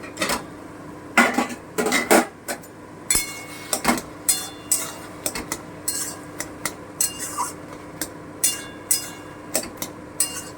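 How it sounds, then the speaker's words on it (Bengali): Ridge gourd being stirred as it fries in a pan, with repeated metal utensil scrapes and clinks against the pan in an irregular rhythm, close and fairly clear, with no talking. "আমি আবার একটু ভেজে দিচ্ছি একটু দেখি আর একটু নেড়ে দিই"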